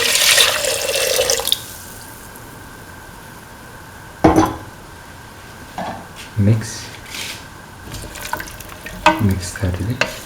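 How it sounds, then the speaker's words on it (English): About 250 ml of coconut milk poured into a pan of potatoes and chickpeas, a gushing pour at the start followed by scattered spoon scrapes and splashes. "Now pour in"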